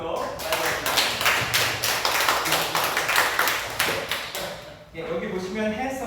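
A congregation at an all-generation Sunday church service claps warmly, with rapid overlapping hand claps that rise and fall in bursts as people talk over them, ending with a short dip and then more clapping.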